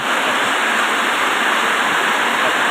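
Heavy rain pouring down on a rural farm with rice fields, a dense, continuous hiss of falling water that stays loud and even throughout, with no voices over it.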